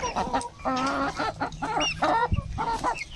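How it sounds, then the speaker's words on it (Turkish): Several chickens and a rooster cluck and squawk close by in a busy, overlapping flurry while being hand-fed mulberries, with a few sharper calls rising above the rest. "Alın bakalım tavuklar."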